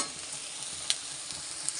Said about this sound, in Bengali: তো এটা ভেজে নিয়ে তখন আমি আদা জিরাটা এর সাথে দিয়ে দেব।